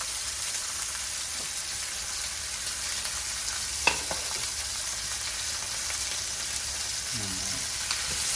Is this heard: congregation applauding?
no